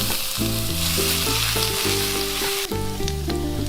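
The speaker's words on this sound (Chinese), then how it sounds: "先把蒜蓉放下来炒香" Minced garlic stir-frying in a wok, a steady sizzling hiss running the whole time beneath prominent background music, no voices.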